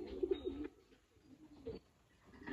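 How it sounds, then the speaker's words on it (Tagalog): Racing pigeons coo softly near their loft after a first club training flight, a few low murmuring coos with quiet gaps and faint background noise. "So 4 na pala doon mga kalapatids."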